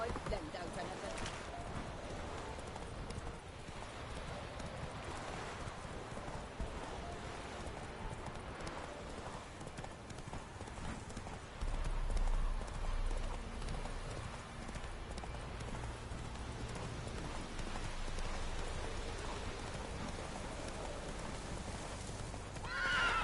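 Roach, a horse in the Witcher 3 video game, gallops with steady clip-clop hoofbeats and whinnies a few times. A voice speaks over the moderate hooves, and a louder low rumble comes in during the second half.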